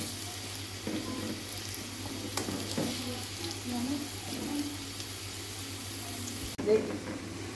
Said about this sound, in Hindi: देखें जी प्याज ब्राउन होने लगा